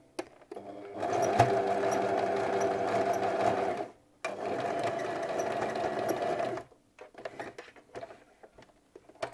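A sewing machine stitches embroidered pyjama fabric in two steady runs of rapid mechanical whirring, close and clear, separated by a brief pause and followed by a few scattered clicks and handling sounds.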